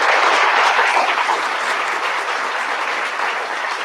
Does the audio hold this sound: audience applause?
yes